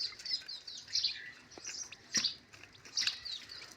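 High, thin peeping of newborn chicks hatched under a hen, several bursts in quick irregular succession, close and fairly loud with no talking.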